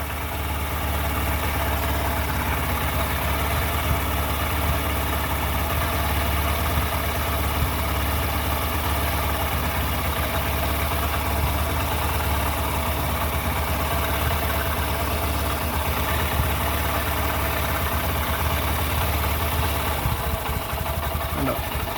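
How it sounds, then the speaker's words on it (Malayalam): A Honda BS6 engine idles at raised speed on its automatic choke, giving a steady, loud, continuous drone with an even low rumble and no break throughout. "ഇപ്പോൾ വണ്ടി ഓട്ടോമാറ്റിക്കലി ചോക്കിൽ റേസ് ആകുന്നുണ്ട്."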